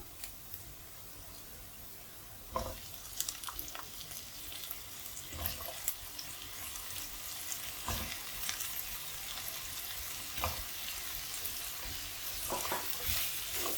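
Potatoes sautéing in hot oil in a pan, with a steady close sizzle and repeated scraping stirs along with intermittent clinks of the spoon against the pan.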